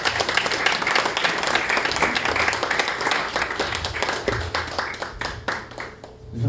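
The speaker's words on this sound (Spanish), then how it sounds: "Dale un fuerte aplauso a Cristo Jesús" A church congregation at a Saturday night vigil bursts into loud, sustained applause that fills the space. Dense clapping continues at an even level for several seconds with scattered voices mixed in, then thins out toward the end.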